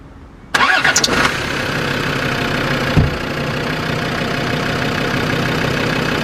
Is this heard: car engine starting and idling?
yes